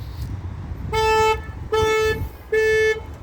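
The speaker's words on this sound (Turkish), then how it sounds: "Sadece kilitli kapın asla açılırsa orijinal alarm devreye giriyor." Three short, loud car horn honks from the factory alarm of a 2022 Volkswagen Polo Life, evenly spaced, each a bright steady toot with quiet pauses between.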